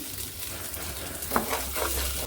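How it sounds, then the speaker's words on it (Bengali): Rice fries in a pan on a gas stove with a low, steady sizzle, and a few soft scrapes of stirring come near the end of the short stretch. "আমি চুলায় যে চালটা একটু ভেজে নিই"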